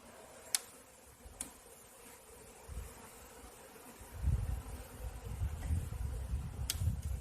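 Honeybees at an open hive during a pre-winter inspection make a low, faint hum that swells in the second half, with a few sharp clicks of frames or tools near the hive.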